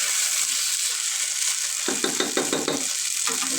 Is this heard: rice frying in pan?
yes